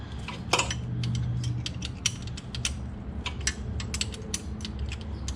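A ratchet clicks rapidly as a screw is tightened on a McLaren 12C during an oil change, a close, steady run of sharp metallic ticks.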